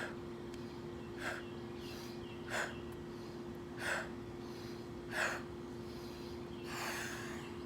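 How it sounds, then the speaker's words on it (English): Slow, deep breathing during a breathing exercise, with soft airy inhales and exhales recurring about every one to one and a half seconds over a low steady hum in a quiet room. "So inhale up, exhale down."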